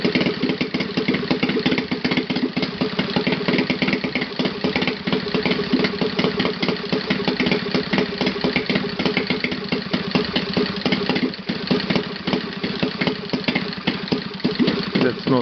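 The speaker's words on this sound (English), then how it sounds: "So, very low, idle, and quite stable. Both cylinders are firing evenly." A Saito FA-270T twin-cylinder model engine idles low and steady, a continuous close-up chugging with even, rapid firing pulses throughout.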